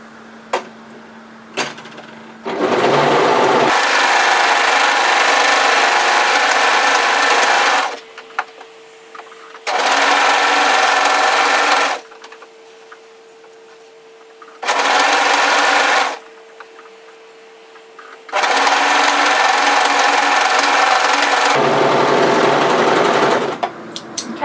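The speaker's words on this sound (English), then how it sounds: "then I'll overlock all round those sides" An overlocker serges the edges of a woven kimono robe in loud, fast, steady bursts of whirring stitching. Each burst runs for several seconds, with quiet pauses and faint handling clicks in between, close up and without talk.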